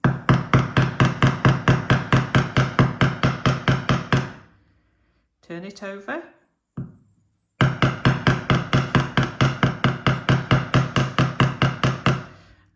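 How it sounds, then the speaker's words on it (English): Rapid, steady metallic hammer taps close by as the end of a jewellery wire is hammered, a long run of evenly spaced strikes, a brief pause with a short spoken remark, then the tapping resumes. "just very gently, to start with, hammer the end of the wire with your hammer"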